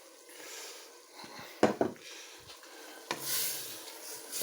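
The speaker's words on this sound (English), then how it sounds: "Just keep stirring it in the pot." Savoury rice cooking in a pot, stirred with a spoon; quiet scraping and a couple of sharper knocks against the pot sit over a soft, low sizzle, with no talking.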